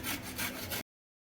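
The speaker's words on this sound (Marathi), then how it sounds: "आता आपण ते किसून घेणार आहोत किसताना ते त्याचा किस बारीक होईल या पद्धतीने किसायचा" Carrots being finely grated for a traditional carrot kheer, three quick close rasping strokes that end abruptly in silence.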